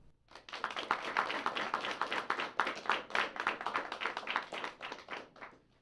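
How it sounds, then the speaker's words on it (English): Audience at a British debate on open borders clapping to vote against the proposition, steady dense applause lasting several seconds, moderately loud and close, with no talk over it. "If you are against the proposition, please clap."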